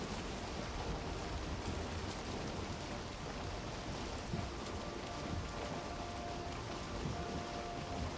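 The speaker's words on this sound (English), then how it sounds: "And it's starting to rain." Rain in the Valheim video game: steady, even patter of falling rain with a continuous hiss and no pauses, heard alone at moderate level throughout.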